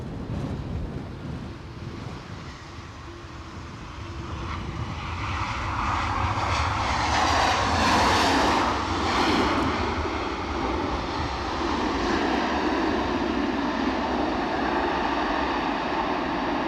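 Ryanair airliner arriving from Madrid at Edinburgh airport, a broad steady jet engine roar that swells to a peak around the middle and holds loud, with wind rumble and no talk.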